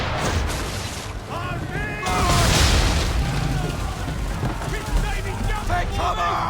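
Swivel guns boom from a ship during an Assassin's Creed III naval battle, heavy low bursts rolling under a busy mix of shouting voices and game noise.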